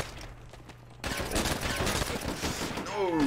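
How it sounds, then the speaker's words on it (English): Semi-automatic M1 carbine fire in the World at War shooter game, a loud dense burst of rapid shots that starts abruptly after a quieter second and continues steadily, with a rising whine near the end. "Hit firing with a semi-automatic M1 carbine."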